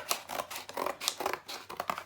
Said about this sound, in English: Once you do that, you'll be taking your baby scissors